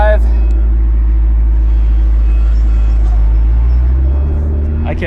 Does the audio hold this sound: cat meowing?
no